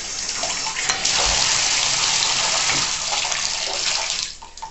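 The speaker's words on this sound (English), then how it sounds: "Fast out of the shower." A shower runs fast with a loud, dense rush of water that holds steady for several seconds and then eases off near the end.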